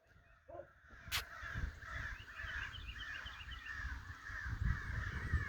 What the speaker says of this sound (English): a lot of crows over there